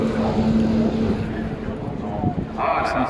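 A Porsche 550 Spider race car at the Le Mans Classic 2022 roars past nearby with a steady engine drone that shifts pitch, while someone talks over it.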